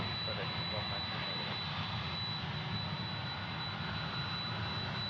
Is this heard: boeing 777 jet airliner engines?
yes